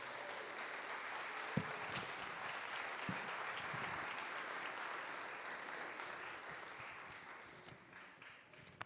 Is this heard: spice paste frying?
no